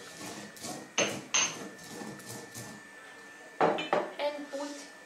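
Cumin (jeera) seeds being smashed in a kitchen while making Indian samosas: a few sharp pounding knocks, two near the start and a cluster later, with clinking of utensils over low background talk.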